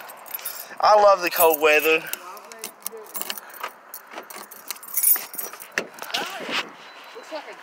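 Keys jangle loudly in several close, bright bursts, with a car nearby and voices talking in between.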